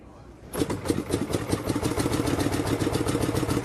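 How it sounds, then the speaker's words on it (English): A 1904 De Dion Bouton veteran car, still on its original engine, starts up and runs with a steady rapid putter, loud and close throughout after a quiet opening half second. "The oldest vehicle here today is the De Dion Bouton from 1904, and at 120 years old, it still runs on its original engine."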